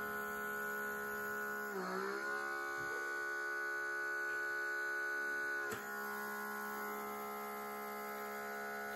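A derma suction device for facial use hums steadily and faintly throughout, a constant electric drone with a brief shift in pitch near the start and a small click partway through.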